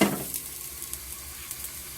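Beef short ribs with black pepper sear in a grill pan, giving a soft, steady sizzle after a brief louder stir or clatter at the start, with no talking.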